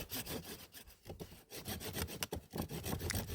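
A hand saw rasps through a tree branch outdoors, steady back-and-forth strokes close by with a brief pause partway, no talking.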